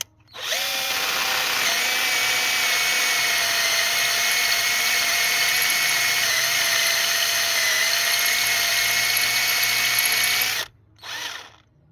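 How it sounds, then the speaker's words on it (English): A power drill bores into a Volkswagen GTI cylinder head, whining steadily at high pitch for about ten seconds, stops abruptly, then gives one short burst before falling silent. "Then keep on checking so that you don't get carried away, guys, and drill through the cylinder head."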